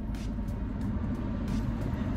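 Steady broadband blowing of a car's air-conditioning fan inside the cabin on a hot 90-degree day, constant and close with a low rumble, no talking.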